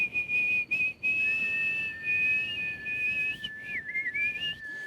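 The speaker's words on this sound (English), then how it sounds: "We're going to whistle now." Clear, sustained whistling, a few overlapping tones rising and wavering with brief pauses, close and fairly quiet, no talking.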